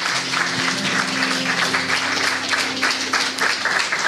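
A church congregation applauds together during a worship service, a steady, dense wash of clapping that fills the room for several seconds without pause.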